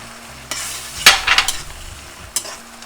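Gobi Manchurian with cauliflower, celery, spring onion and coriander is stirred in a hot pan: a soft sizzle punctuated by several sharp scraping strokes of a spoon, close and without voices.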